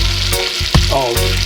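Lamb meat for moussaka frying in a pan, a loud, steady close-up sizzle with a brief stirring clatter partway through.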